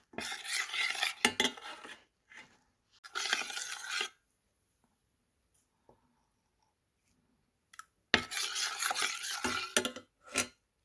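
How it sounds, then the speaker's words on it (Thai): Pumpkin dough is stirred slowly over low heat in a pan, with bursts of scraping and clinking in irregular stretches separated by quiet pauses. "จะกวนไฟอ่อนนะคะ ค่อยๆกวนไป"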